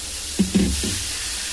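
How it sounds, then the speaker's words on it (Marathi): Dosa batter hits a hot iron tawa, giving a few short sizzling bursts that settle into a soft, steady hiss, close and without talk. "तवा मस्त गरम झालेला आहे. आता मी डोसाचं बॅटर टाकते."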